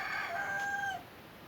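A rooster gives a single short crow, clear and fairly close, ending abruptly into quiet.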